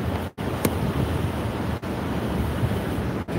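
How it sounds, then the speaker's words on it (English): Strong outdoor wind buffets the microphone in a loud, continuous roar with a few brief dropouts, and no one speaks. "Might be too windy."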